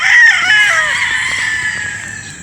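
A gamecock rooster at a game farm in Batangas lets out a single loud, close crow that trails off over about two seconds, with no voices.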